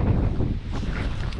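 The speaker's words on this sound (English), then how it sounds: "Really windy today, so I hope you can actually hear me okay." Strong gusts buffet the microphone outdoors beside a Swift Voyager 594 caravan, a loud continuous low rumble that swells and dips with no voices.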